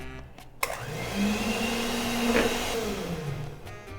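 An electric mixer beats flour and cornstarch cookie dough, starting with a click and then a steady loud whirring motor hum that rises slightly in pitch and runs throughout, with no speech.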